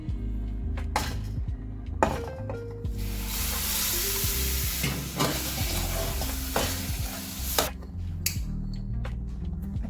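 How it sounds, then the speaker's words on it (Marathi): Semolina dry-roasting in a pan over a very low flame, with scraping strokes of stirring over a continuous soft sizzle, the sizzle swelling loud in the middle before easing off. "जवळजवळ 10 मिनिटं आपल्याला रवा इथे भाजून घ्यायचा आहे."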